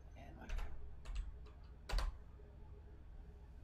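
Quiet computer keyboard typing in a few short bursts of clicks, entering a web address, with faint room noise between keystroke clusters.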